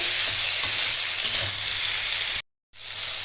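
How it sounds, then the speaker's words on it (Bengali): Ginger-cumin paste fries hard in a pan, with a loud, dense, steady sizzle and a few faint stirring touches, then an abrupt brief dropout before the sizzle resumes. "এটা ততক্ষণ কষতে হবে যতক্ষণ আদার গন্ধটা যায়, আদা জিরে বাটার গন্ধটা না যায়"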